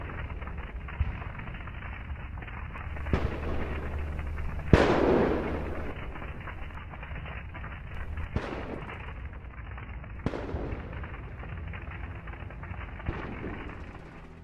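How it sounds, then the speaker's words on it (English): Shells detonating in a burning Russian military convoy: sharp, irregular bangs and pops over a steady roar of fire, with one heavier blast partway through and scattered distant cracks, no voices. "Fire everywhere, shell detonation, smoke."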